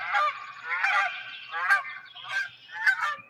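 A run of about five loud, raspy honks from Canada geese, coming in separate bursts with short gaps between them, close and clear with no voices.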